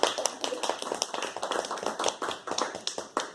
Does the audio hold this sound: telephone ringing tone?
no